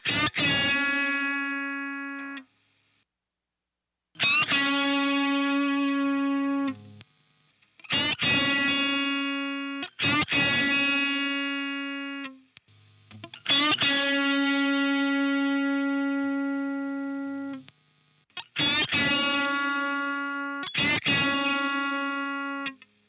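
Heavily distorted electric guitar through a NUX MG-300 amp modeler, notes and chords played in separate bursts with pauses between, each sustained before decaying abruptly, slightly chorused.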